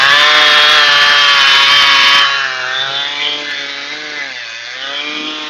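A chainsaw working on an oak tree for firewood screams loudly at full revs, then drops abruptly to a lower, wavering idle that sags and recovers, close to the microphone.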